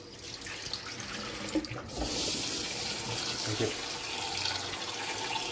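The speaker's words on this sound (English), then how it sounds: "we're going to get this rice soaking in cold water" Cold tap water runs steadily into a bowl of rice for soaking, starting as a softer trickle then swelling into a full, loud gush that continues for several seconds, with a brief word spoken at the start.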